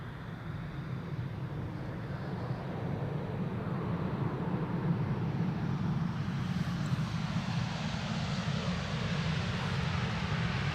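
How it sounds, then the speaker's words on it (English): A steady, loud airplane engine roars continuously without pause at Amsterdam Schiphol Airport in winter, a broad droning rumble that holds level throughout. "All the airplanes that we have seen today thus far have been louder than on average"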